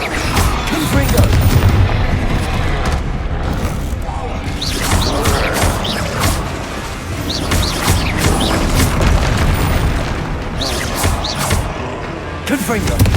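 Confringo blasting spells explode in Hogwarts Legacy combat, with repeated loud booms and crashes layered over busy game noise, and a voice talking over the blasts.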